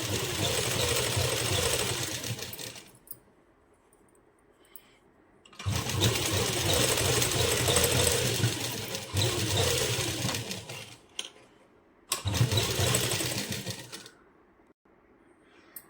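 A sewing machine stitches a seam along lace for a puff sleeve, running in three rapid, loud mechanical bursts separated by short quiet pauses.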